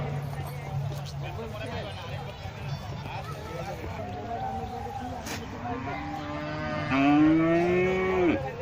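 Cattle moo at a government cattle expo in Bangladesh, first as low calls under a constant crowd murmur and a loudspeaker voice, then one long, loud, rising moo close by near the end.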